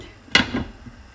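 A lid is set down onto a pan of dumplings covered in boiling water, giving one clear near clatter followed by a softer settling knock, with quiet afterward.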